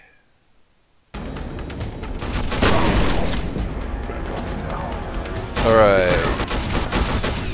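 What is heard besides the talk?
gunfire in the video game F.E.A.R. Perseus Mandate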